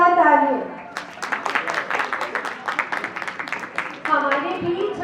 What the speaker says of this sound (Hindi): मैं चाहूंगी उनके लिए जोरदार तालियां